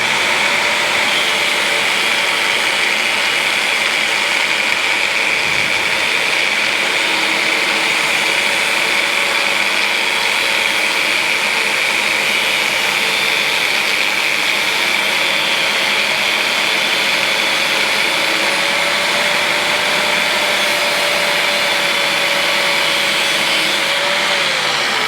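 Steady, loud, continuous whine of a power tool cutting metal tube in a workshop for a Royal Enfield bobber build, running without pause and close by.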